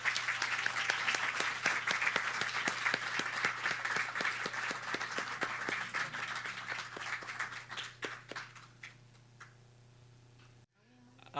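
An audience applauding panelists as they come up to the dais at an arts conference, steady dense clapping that thins out and fades over the last few seconds before stopping.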